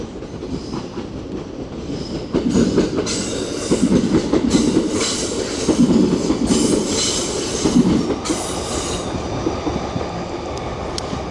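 A train rolls past below a bridge at Ueno Station in Tokyo, a loud steady rumble of wheels with rhythmic clacking over rail joints and faint squeals, building and then holding steady, with no talk.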